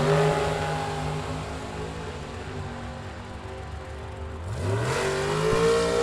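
A dragster at a bracket drag race accelerates down the strip, a distant engine drone that dips, then swells again with a rising pitch sweep as another car passes; no voices.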